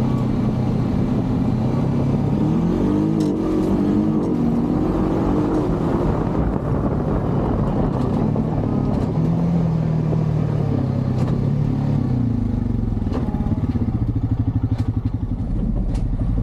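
A Honda Pioneer 500 UTV with a dual-clutch transmission rides along, its engine rumbling steadily and then revving up and dropping as it shifts, loud and close with clattering over rough ground.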